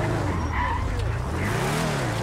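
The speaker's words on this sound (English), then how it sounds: "A drunk guy drifting, that doesn't sound particularly healthy." Tires skidding as a stolen police car drifts in a video game, a short, loud squeal over engine rumble with some background noise.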